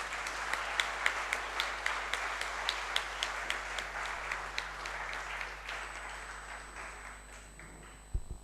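An audience at a student investment course finale applauds an introduced guest, steady clapping filling the room for several seconds before tapering off, with a faint tone lingering near the end.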